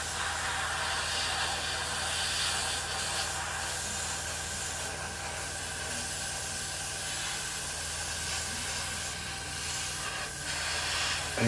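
Steady hiss of a spray can laying black primer onto an Airfix 1/48 P-51D Mustang plastic model kit, continuous and close, with only slight swells and no talk.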